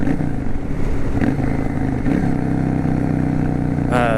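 A Yamaha V Star 650 Classic motorcycle with punched exhaust baffles rumbles steadily up close with a loud, raspy exhaust note, a few brief revs and clatter, running continuously throughout.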